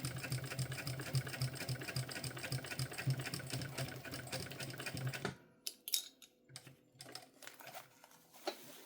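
A home sewing machine stitches a mini backpack, running in a fast steady mechanical chatter for about five seconds, then stopping into scattered clicks and handling taps of the fabric and machine, close up with no talking.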